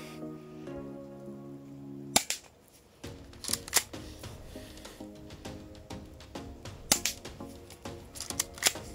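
A new airsoft gun fires at a paper target in a series of sharp, dry snapping shots, some single and some in quick bursts, close by after a brief stretch of steady hum at the start.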